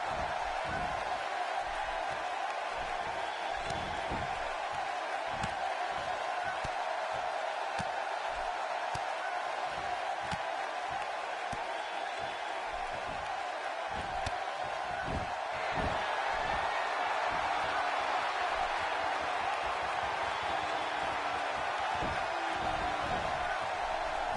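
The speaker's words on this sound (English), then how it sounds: "listen to the appreciation this Columbus crowd is giving these superstars" A dense arena crowd in a wrestling video game, set in Columbus, roars and cheers steadily throughout, swelling noticeably louder partway through with scattered whoops and claps.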